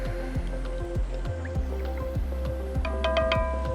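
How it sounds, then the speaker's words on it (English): A spoon stirs shredded sharp cheddar into a cheesy bacon potato soup in a pot on an induction cooktop, making soft, wet squishing and dripping sounds in a steady rhythm, close and clear, with no talking. "Stir that all up."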